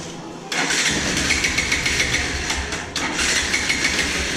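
A Bajaj Pulsar 150cc motorcycle engine fires up after a brief crank and settles into a steady, close, loud idle with a slight dip in revs partway through.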